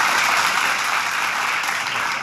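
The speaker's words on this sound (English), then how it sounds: "Give a round of applause, guys, okay?" An audience at a sales presentation claps continuously, a dense, even wash of many hands that fills the room without letting up.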